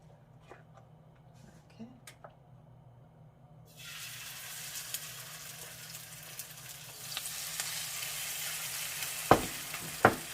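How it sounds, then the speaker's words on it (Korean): Spoonfuls of soybean sprout pancake batter sizzle and crackle steadily in frying oil after a quieter start, the hiss swelling midway and staying loud, with a few sharp pops near the end. "무언가 지글지글하는 소리는 항상 입맛을 돋구는 느낌이 있네요."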